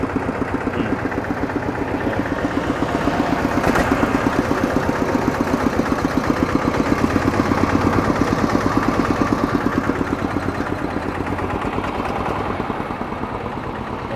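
A mid-sized engine idling steadily with a regular chugging rhythm, close by, running continuously without talk.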